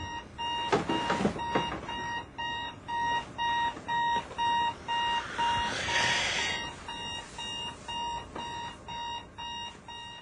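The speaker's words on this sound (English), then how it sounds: "Here's your clock ringing." A loud electronic alarm clock beeps in steady repeated bursts, with a brief burst of rustling and clatter near the start and again midway.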